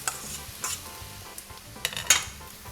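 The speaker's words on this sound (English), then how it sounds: "So the next step is to add in your drained gnocchi. Just get those tough bits out at the bottom with a spoon." A spoon scrapes and stirs drained gnocchi through garlic and butter in a hot pan, with soft sizzling and a few quick metallic scrapes and taps close by, no talking.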